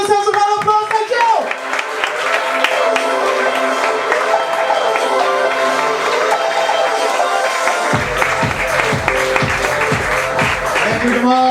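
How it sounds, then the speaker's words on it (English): Applause from a comedy workshop audience in Dubai, loud and sustained, mixed with music and crowd noise that carries on throughout. "Give yourselves a round of applause."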